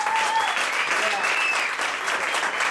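Audience applause at a live concert in Cauz, dense steady clapping filling the whole stretch with a few faint whistles or cheers riding on top.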